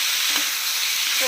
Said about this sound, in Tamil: இதை நல்லா வதக்கிட்டு கடுகு நல்லா பொரிஞ்சிச்சு, நல்லா வாசனை வந்துச்சு.